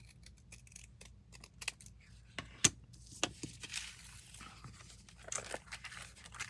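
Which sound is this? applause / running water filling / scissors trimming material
scissors trimming material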